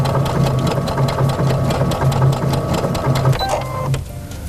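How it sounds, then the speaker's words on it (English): Sewing machine stitching a wool appliqué, running steadily at a fairly quick pace with a continuous rhythmic whir for about four seconds, then slowing and stopping near the end. "you can also begin to get a little faster with your stitching by machine"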